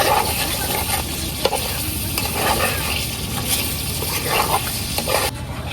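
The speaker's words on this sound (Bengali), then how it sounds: "বারে বারে কিন্তু নাড়াচাড়া করা লাগবো" Beef kala bhuna fries steadily in a pot over a clay stove, with a continuous sizzle and rhythmic scraping as the thick spiced meat is stirred again and again, close up and loud throughout.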